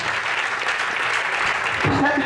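A church congregation at a night vigil keeps up steady, dense applause, and a voice rises over the clapping near the end.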